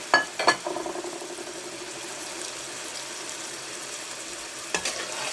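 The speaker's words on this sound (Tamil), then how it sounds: "இப்போ நான் மட்டனை போட்டுக்கிறேன். நல்லா வேகட்டும்." Mutton pieces hitting a pan of softened, sautéed tomatoes for South Indian boti curry, with a few sharp clatters and splashes at first, then a steady fizzing sizzle and another scrape near the end.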